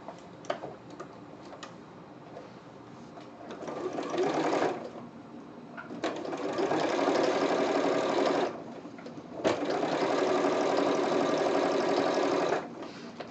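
A sewing machine stitching a bag seam runs in three bursts of rapid, steady mechanical clatter, loud and close, separated by short pauses with light ticking and handling noises.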